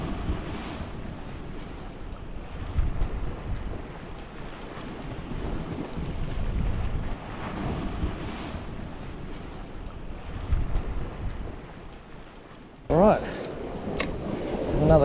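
Steady wind rushes and buffets the microphone aboard a small fishing boat at sea, with waves washing beneath it throughout, and a brief louder gust or knock near the end.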